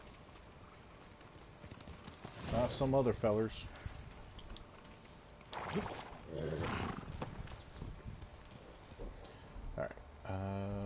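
Hooves clip-clop steadily as a horse gallops in Ghost of Tsushima, with a horse's breathy snorts and game sounds around it, while someone talks over the top.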